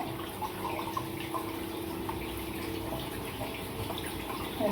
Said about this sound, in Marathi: पाणी असं काढून द्यायचं